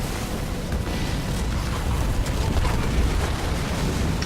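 Battle in the Halo Wars 2 real-time strategy game as an enemy structure is destroyed, a dense continuous rumbling roar of blasts and gunfire, loud and steady throughout.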